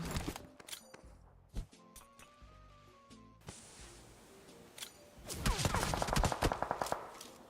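Gunfire in a video game: scattered single shots early, then dense rapid bursts of automatic fire building loudly toward the end, with faint footsteps between.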